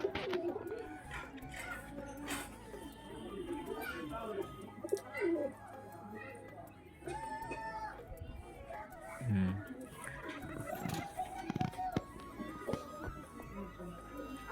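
Pigeons in a loft: soft, low cooing and a few brief calls come through intermittently at low volume, mixed with a person talking and light handling noises throughout.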